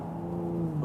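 Cabin view of a Cadillac CT5-V as the throttle is gunned: a deep, steady engine drone with a firm hum that swells slightly at the end of a brief, talk-free moment.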